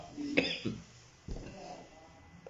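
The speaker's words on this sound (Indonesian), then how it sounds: "maaf ya, lagi batuk." A few quiet coughs close by, the first a sharp single hack, followed by a softer throat-clearing cough.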